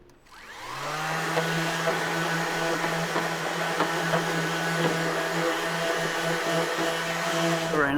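A power sander working 200-grit paper over a Civic hatchback body panel, a steady motor whir with a constant hum that starts within the first second and runs evenly at moderate loudness.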